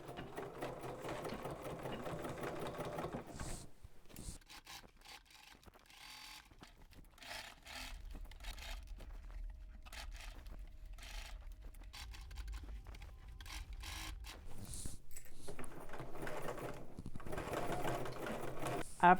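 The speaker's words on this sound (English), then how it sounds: "we're going to edge stitch along our armhole. Let's head over to the machine." A sewing machine fitted with an edge stitch foot runs along a garment armhole in a steady mechanical whir. It pauses for a quieter stretch in the middle, then resumes stitching near the end.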